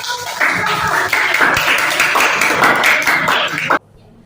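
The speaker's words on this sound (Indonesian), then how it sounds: "Oke, berikan tepuk tangan" Children in an Indonesian school classroom clap together after a group presents its pancake discussion, a dense burst of close applause lasting several seconds before stopping abruptly.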